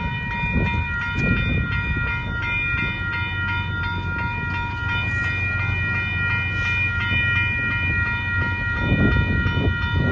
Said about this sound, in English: the Mexico intermodal train now